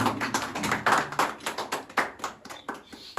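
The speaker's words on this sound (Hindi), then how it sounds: "इनके लिए तो जोरदार तालियां बनती है" Applause from a seated audience at a felicitation ceremony honouring two people, a scattered, uneven patter of hand claps that rises and falls in waves rather than building into a dense roar.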